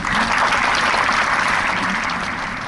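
Dense, sustained audience applause at an open-air art event, many hands clapping together in an even wash of sound that holds steady and then eases slightly near the end, with no voices over it.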